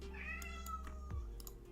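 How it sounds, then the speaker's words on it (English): A house cat meows in a drawn-out, wavering call, then gives a second shorter meow near the end, close and clear over faint keyboard clicking. "My cat's moaning at me."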